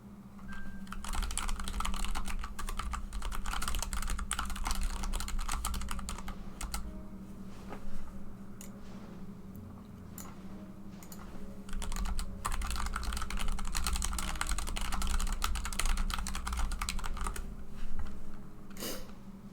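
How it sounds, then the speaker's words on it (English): Steady clicking of typing on a computer keyboard, close and fairly loud, running throughout with brief lulls around the middle. "Probably heard the clicking from my keyboard fairly well"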